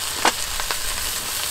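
Food sizzles steadily in a hot pan, with a few sharp pops breaking through the hiss, close and alone with no talk.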